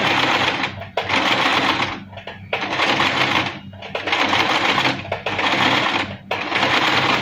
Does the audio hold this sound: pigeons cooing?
no